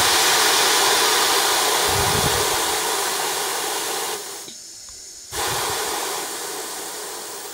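An air compressor vents pressure through its safety valve in a loud, steady hiss that cuts off abruptly for about a second, then resumes just as strong, heard up close with no speech.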